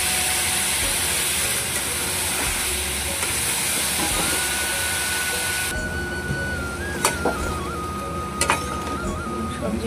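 Raw vegetables hit a hot pan with salt and turmeric, setting off a steady, loud hissing sizzle that holds throughout and softens slightly partway, with a few faint clinks near the end.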